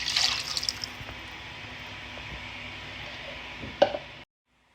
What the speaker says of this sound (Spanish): ahora le echamos como medio litro de agua